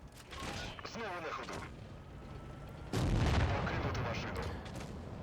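Tank cannon shots in World of Tanks ring out as a couple of heavy booming blasts with rumbling tails, the second louder and longer, mixed with game effects and a voice speaking.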